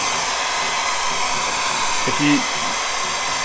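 A heat gun blows steadily at close range while warming a rivet sticker on a Humvee, a constant hiss-like roar under a brief spoken phrase.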